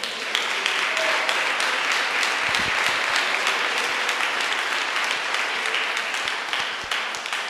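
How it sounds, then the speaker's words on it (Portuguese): Sustained applause from a church congregation during a Portuguese-language evangelical sermon, a dense, steady wash of many hands clapping that carries on for several seconds at full strength. "Pode dar essa salva de palmas para Jesus,"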